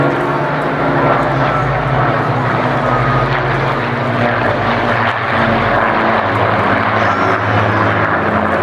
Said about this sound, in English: And a Spitfire and a Hurricane.